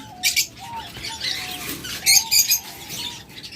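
Pet birds at a bird farm chirp and tweet in quick, high, scattered bursts, with some louder clusters among softer background twittering and rustling, fairly close and with no talking.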